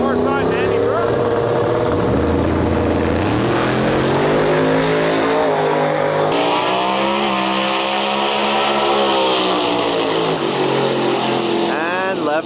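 Drag race cars roar through a 155 mph pass in loud continuous engine blare, pitch shifting as they accelerate, with an announcer talking over the noise.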